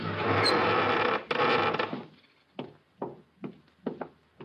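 Radio drama sound effect of a door creaking open into a sheik's room: a sustained noisy creak for about two seconds, followed by a series of short knocks and thumps of the door mechanism settling.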